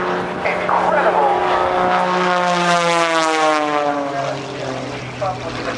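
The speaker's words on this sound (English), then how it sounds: "from that Thunderbolt Lycoming engine developing over 300 horsepower" A Cirrus airplane with a Thunderbolt Lycoming engine of over 300 horsepower flies past at an airshow, a loud propeller drone that sweeps downward in pitch as it passes, with an announcer talking over it.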